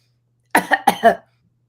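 A person imitates a pig coughing: a short burst of four quick harsh coughs close to the mic, then silence.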